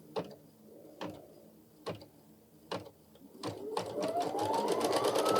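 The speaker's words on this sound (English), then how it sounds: "let's go ahead and stitch that down now." An embroidery machine stitches down a placement line for a Kimberbell mug rug fabric project, starting with several separate mechanical thumps before settling into a steady, close, rapid stitching whir.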